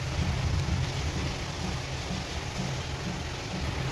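Steady rain falls in a dense, even wash, with a low rumble underneath and no voices.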